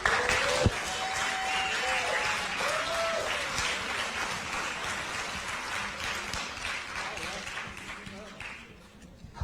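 Sustained audience applause for mayoral candidates at a San Diego forum, a dense wash of many hands clapping that starts strong, runs steadily for several seconds and slowly thins toward the end, with a few brief tonal sounds near the start.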